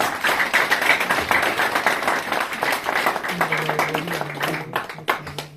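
A church congregation applauding, scattered claps and taps at moderate distance, with a voice talking and a low sustained tone emerging partway through.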